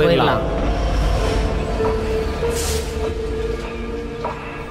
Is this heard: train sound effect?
yes